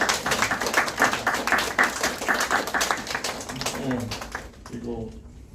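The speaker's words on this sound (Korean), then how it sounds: "격려 박수 한번 해주시고" An audience claps in encouragement at a Methodist church thanksgiving service and book launch, with a dense, steady patter of many hands close by that fades out near the end as a voice starts.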